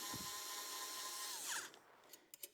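A power drill drives a bolt while assembling a Kobra 2 Max 3D printer, a steady close whine lasting about a second and a half, then a few light clicks and taps.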